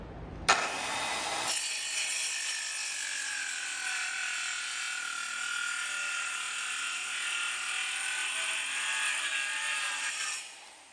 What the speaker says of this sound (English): using this saw first and then just trimming it with the sawzall